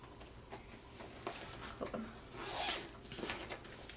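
A zipper on a bag's mesh side pocket runs briefly, a quick rasping pull, with soft handling noises around it in a quiet room.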